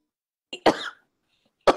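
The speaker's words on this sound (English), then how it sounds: "She takes a hit and starts coughing violently." A woman coughs right after taking a hit from a joint, a short harsh cough followed by a sharper, louder one, then a brief pause and another abrupt cough, close and clear with no talking.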